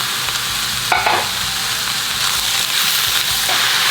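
Food sizzles and crackles steadily in a hot pan, with a few brief scraping stirs near the start.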